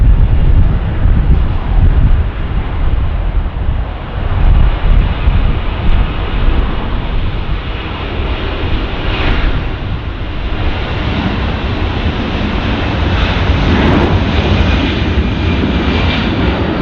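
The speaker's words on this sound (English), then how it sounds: "Delta 443, wind 240 at 15, RNAV at Delray, runway 24 left, clear for takeoff." A Delta airliner takes off from runway 24 left at Los Angeles International Airport, its jet engines roaring loud and continuous throughout, with a broad rushing tone and some wind buffeting on the microphone.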